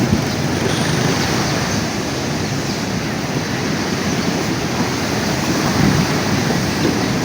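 Loud, continuous roar of heavy surf crashing, a dense unbroken wash of water noise with no voices.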